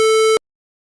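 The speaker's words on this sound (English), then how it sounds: "I've done also a square wave." A harsh, buzzy electronically generated square-wave test tone plays loud and alone for about a third of a second, then cuts off abruptly into silence.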